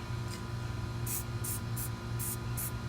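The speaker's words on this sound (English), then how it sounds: "I'm going to go ahead and grease this clamp so that way we can soften that up" Spray grease is applied to an old spare tire mechanism clamp on a GM vehicle in five short, hissing bursts. The bursts are close and separated by brief pauses over a faint steady hum.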